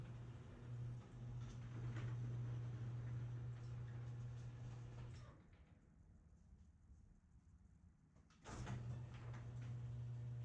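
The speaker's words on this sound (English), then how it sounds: "With all the boards installed, I raise and lower the garage door," A motorized garage door runs with a steady mechanical hum, pauses briefly in a quieter gap, then starts up again in the opposite direction, close and moderately loud.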